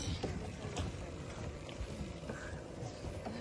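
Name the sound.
boat travelling on water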